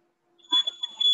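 An Arduino-driven buzzer sounds a thin, steady high-pitched tone that starts partway in, while a voice talks over it up close.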